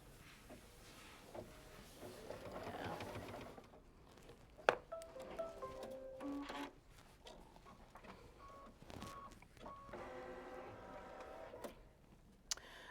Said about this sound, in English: I'm going to press buttons, and it's going to stitch around and stitch my batting down